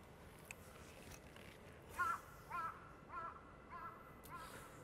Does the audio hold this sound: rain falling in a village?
no